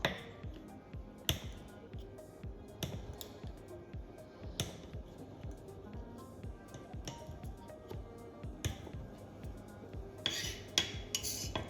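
A knife chops a bar of soap into small pieces, giving a run of sharp, irregular clicks and taps against a hard surface, close and moderately loud, with no talking.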